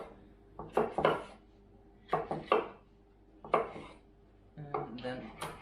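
A knife chops vegetables on a cutting board into small pieces, crisp thuds in short clustered bursts with pauses between, close and clear, no talking.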